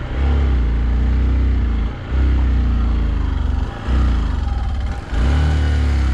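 A motorcycle engine strains and revs loudly at close range on a rough mountain route toward Kailash Mansarovar, with its drone dipping and recovering a few times as it struggles in low gear.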